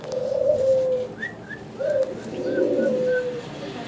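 Pigeons cooing at close range, several rounded coos in repeating phrases over a low background hum, with faint chirps mixed in and no talk.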